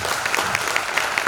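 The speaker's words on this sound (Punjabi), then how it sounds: "ਇਦਾਂ ਦੇ ਭਰਾਵਾਂ ਦੇ ਲਈ ਤਾਂ ਸਭ ਤੋਂ ਵੱਡੀਆਂ ਤਾੜੀਆਂ ਹੋਣੀਆਂ ਚਾਹੀਦੀਆਂ।" Steady clapping from a seminar audience, a dense even applause heard up close throughout with no voices over it.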